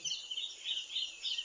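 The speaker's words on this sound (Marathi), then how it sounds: "पक्ष्यांचा पण आवाज येतो" Faint, high-pitched bird chirps repeat in quick bursts outdoors, fairly distant and soft, with no talking.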